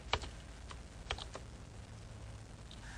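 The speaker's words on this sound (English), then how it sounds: "press the space bar, and press Control V" Windows 95 computer keyboard typing: a handful of sharp, separate key clicks and space bar presses, spaced irregularly over a quiet room hum with no talk.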